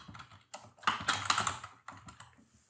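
Brief burst of typing on a computer keyboard, close and moderately quiet, with uneven clusters of key clicks and a short pause near the middle.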